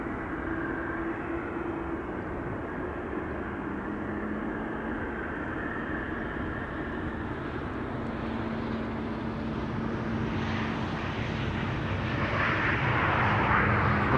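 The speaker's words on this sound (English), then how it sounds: "KLM Embraer 190 now coming in." A KLM Embraer 190 airliner arriving at Amsterdam Schiphol makes a steady, distant jet roar with a low engine hum that grows slightly louder toward the end.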